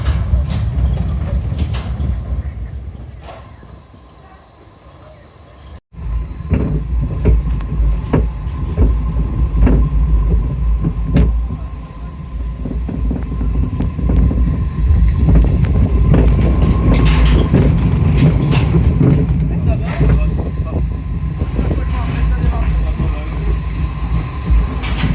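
Small galleon pirate ship ride at an amusement park in motion, a loud rumbling, rattling mechanical roar with clacking and squeals that dips briefly, then surges back and holds strong.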